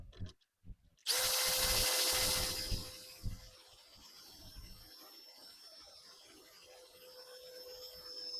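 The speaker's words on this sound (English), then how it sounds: "And then we'll go ahead and drill the hole." A power drill bores an angled pocket hole into 3/4-inch wood, a sudden loud whirring burst lasting about two seconds, then a steady motor whine fading as it winds down, with faint handling noises before and after.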